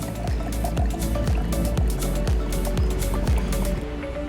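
A drink is poured into a glass at a first-class airline lounge: continuous close liquid filling with gurgling and dripping, loud and steady, with no talk over it.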